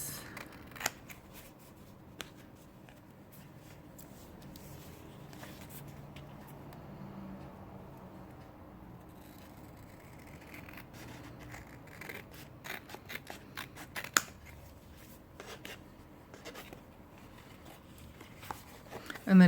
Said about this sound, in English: We'll just trim off the excess